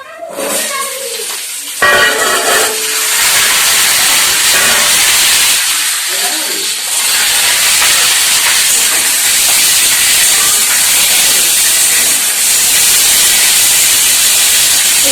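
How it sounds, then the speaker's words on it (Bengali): Chopped vegetables hit a hot pan of oil seasoned with a bay leaf, setting off a loud, continuous hiss of sizzling steam that runs through the whole stretch, with faint voices beneath it. "আর এই যে সব সবজি আগে থেকেই কেটে রেখে দিয়েছি, এই সবজিগুলোকে এর মধ্যে দিয়ে দেব।"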